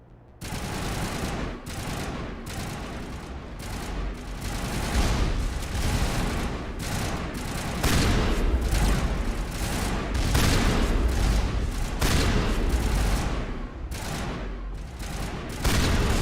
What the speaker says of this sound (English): this gun is amazing now. Slug shot explosive rounds